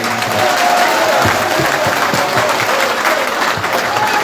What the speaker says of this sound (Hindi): और एक जोरदार तालियां बबलू को धन्यवाद